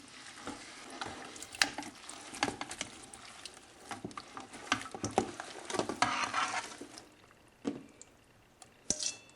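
Pickles stirred through a sweet pickle brine, giving close wet sloshing and scraping with irregular clinks and drips, moderately loud and steady, with no talking.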